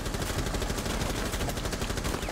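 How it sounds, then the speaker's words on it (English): Dense, continuous automatic gunfire from shooting at an object in Rainbow Six Siege, a loud, unbroken rattling burst up close with no talking. "We can break it by shooting it"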